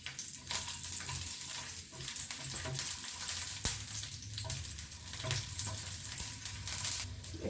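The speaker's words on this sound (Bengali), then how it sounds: "4 কোয়া রসুন আমি একটুখানি তেলে নেড়ে নেবো" Four garlic cloves fry in a little oil for a Bengali dish, giving a steady, close sizzling hiss that runs unbroken with faint stirring movements.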